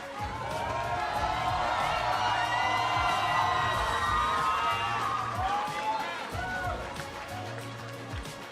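A large arena crowd at the 2017 League of Legends All-Star event, North America versus Brazil, cheers and whoops loudly in a sustained roar with shrill shouts, while voices talk underneath.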